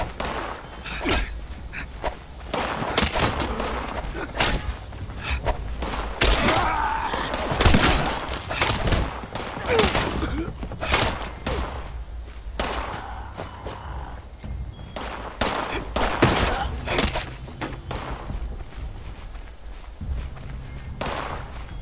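Video game gunfire in Fallout 76 while fighting gun-wielding ghouls, a dense run of sharp shots and thuds in rapid bursts over a rumbling background, steady and close throughout.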